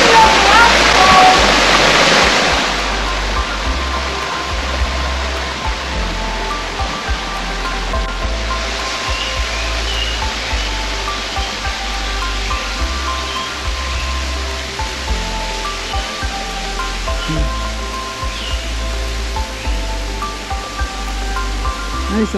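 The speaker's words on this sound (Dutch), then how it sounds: "We hebben de waterval gevonden." Hidden waterfall on Praslin island, reached by crawling through a fence, roaring as a steady broadband rush close by. It is loudest in the opening seconds, then continues as a constant wash with faint voices underneath.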